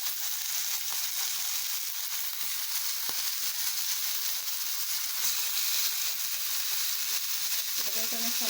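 Meat sizzling steadily in a hot pan, a constant bright hiss with occasional faint clicks and stirring, and a brief bit of background voice near the end.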